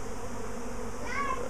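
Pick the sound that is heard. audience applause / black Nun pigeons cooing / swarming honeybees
swarming honeybees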